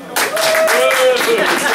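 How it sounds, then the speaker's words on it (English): An audience at a live comedy event breaks into applause and cheering that starts abruptly and carries on steadily, with a voice whooping over the clapping. "So by applause, we got David."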